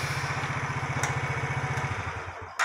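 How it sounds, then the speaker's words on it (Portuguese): A motorcycle engine putters at a steady, rhythmic idle close by, then cuts out near the end, with a brief rattle afterward. "Liga a moto."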